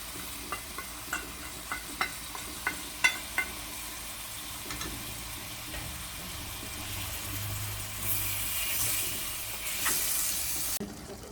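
Sri Lankan chicken biryani cooks in a pot. A series of light clicks and taps comes first, then a steady soft sizzle and hiss continues, nearby and moderately quiet.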